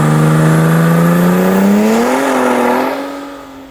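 A drag racing car launches hard at a season-opening acceleration test day, its engine screaming loudly at a high steady pitch before rising in a quick shift and then fading slightly as it pulls away.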